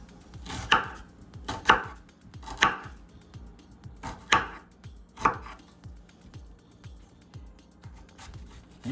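Onion for ham and bean soup is chopped on a cutting board, with sharp knife strikes landing roughly once a second, close and crisp between softer cutting taps.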